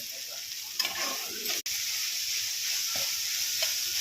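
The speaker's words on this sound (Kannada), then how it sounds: "ಇದನ್ನು ಚೆನ್ನಾಗಿ ಫ್ರೈ ಮಾಡಿ" Sago pearls frying in a pan while being stirred, a continuous close sizzle with scraping stir strokes and a brief sharp knock partway through, no voices.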